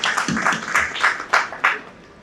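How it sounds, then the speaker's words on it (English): Keynote speech audience at a business summit, scattered clapping with a few distinct louder bursts, thinning out and fading toward the end. "a big round of applause for Mumbai City"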